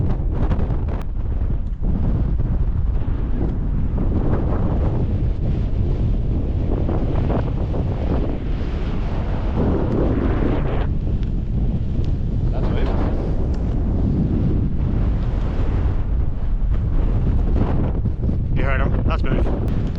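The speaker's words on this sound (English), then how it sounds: "it's very windy" Heavy wind in the Mourne Mountains buffets the microphone nonstop on a hike, a loud low roar with gusty surges and faint voices underneath.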